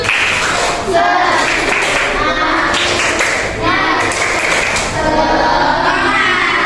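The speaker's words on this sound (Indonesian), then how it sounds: "Tepuk semangat." Schoolchildren in a combined-grade classroom do a rhythmic clapping chant together, with patterned claps and taps mixed with their shouted voices. The sound is loud, close and energetic, and runs in repeated bursts.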